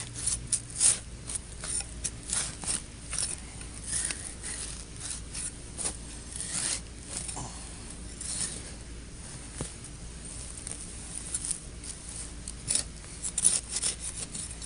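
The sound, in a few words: digging a bigger plug in soil with a trowel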